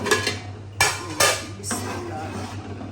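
Dry lentils tipped into a home cooking pot for daal chawal, giving three or four close, rattling bursts of grains striking metal over a steady low hum, with no talking.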